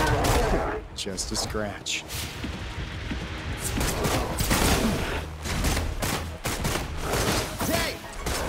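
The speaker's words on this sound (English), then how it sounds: "Bullets fly!" Video game Wuthering Waves combat: bursts of gunfire and explosive impacts crack repeatedly amid loud battle effects and music, with character voices speaking over the action.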